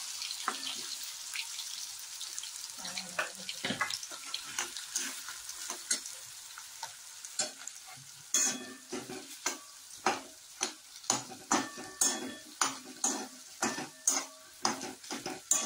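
Potatoes and chilies sizzle in ghee in a pan, with a steady hiss under repeated scraping strokes of a stirring spoon that grow sharper and more regular toward the end.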